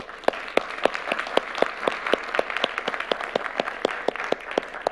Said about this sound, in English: and you're very brave, and we applaud you.